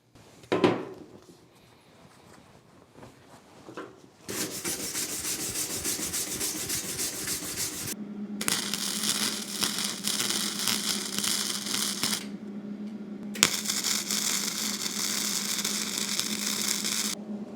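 MIG welding with a Hobart Handler 140 on the seams of a steel fireplace surround, in long continuous crackling, hissing bursts broken by short pauses, close and loud, with no talking.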